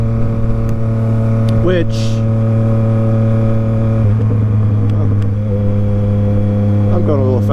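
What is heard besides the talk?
Tuned Yamaha MT-09 motorcycle engine accelerating while riding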